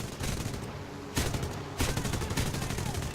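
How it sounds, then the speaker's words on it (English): Small arms gunfire from a P-39N-0 fighter plane in War Thunder, loud rapid bursts rattling almost continuously over a steady engine roar, with a short pause before the firing resumes. "Let's fire off a few small arms here"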